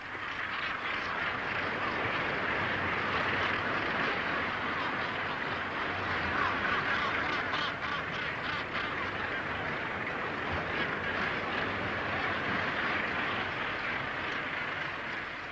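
A colony of about 20,000 gannets on a rocky island calls continuously as a dense, harsh wash of overlapping cries, steady and loud throughout with no single bird standing out.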